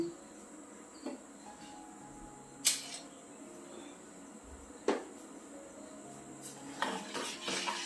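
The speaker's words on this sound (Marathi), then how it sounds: "जरा मिक्स करून घेते चमच्यानी" A spoon clinks against a metal pot of tea a few times, sharp scattered scrapes and taps over a quiet background hum.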